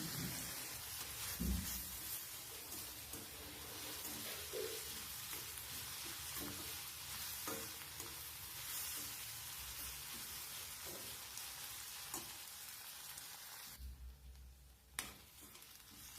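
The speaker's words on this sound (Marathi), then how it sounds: "आणि टमाटा पण आपल्याला तेलावर छान परतून घ्यायचा आहे बघा अशा पद्धतीने।" Onion and tomato sautéing in oil in a pan for a Marathi okra curry: a continuous bright, hissing sizzle with scraping stirs and soft clinks, fairly faint, dropping away briefly near the end before resuming.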